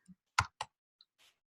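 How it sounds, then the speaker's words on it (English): A few sparse, crisp clicks of typing on a computer keyboard, spaced irregularly and fairly quiet, with no talking. "I'm just typing it in here so you can"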